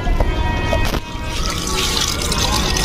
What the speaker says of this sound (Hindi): तो मम्मी यहाँ पे प्लांट्स में पानी दे रहे हैं